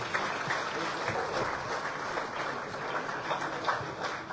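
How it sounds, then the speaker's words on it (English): An audience claps for the governor at a Liberian government launch event, a steady, somewhat distant round of applause that holds evenly throughout without pause. "I think the governor deserves another round of applause"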